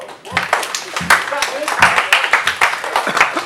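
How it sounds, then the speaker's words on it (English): An office audience giving a slow, uneven clap, scattered hand claps arriving irregularly at close range, with voices talking over them. "Now I want you to give a slightly more confused clap"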